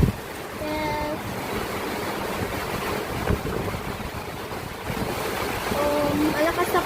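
Heavy typhoon rain and strong wind roar as a steady broadband wash throughout, with gusts swelling near the end; a voice briefly talks over it.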